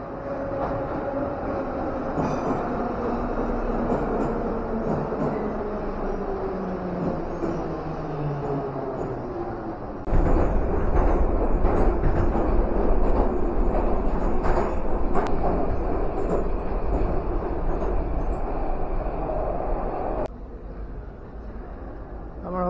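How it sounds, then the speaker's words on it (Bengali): A Tashkent metro train runs through Chorsu station, a steady loud rumble of wheels and motor that swells as it passes, with a brief hiss, a few clanks and faint voices of people nearby. "আমার হোস্টেলের ওখান থেকে মেট্রো করে চরসু বাজার, চরসু স্টেশনে এসে নেমেছি।"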